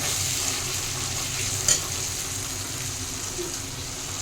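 Spice masala for egg curry fries in oil as it is stirred, a continuous close sizzle with a single sharp scrape of the spoon against the pan.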